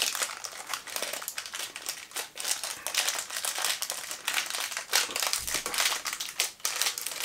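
Plastic packaging of cream and cocoa biscuits crinkles and crackles steadily up close as it is opened, a dense continuous rustle with sharper crunchy peaks and no talking.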